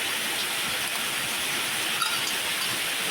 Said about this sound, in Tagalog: Yung lakas ng ulan grabe lakas ng ulan.